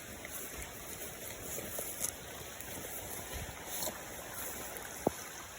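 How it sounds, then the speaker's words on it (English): Runoff water flows along a permaculture terrace channel in a steady, soft rush, fairly faint, with a few small splashes and knocks. "so we've got a lot of water moving now"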